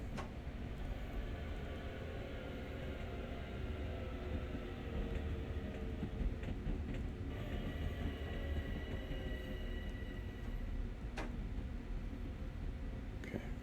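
Simulated M7 EMU electric commuter train on the Long Island Rail Road in Train Sim World, running with a steady low rumble and motor whine, faint rail clicks throughout, no talking.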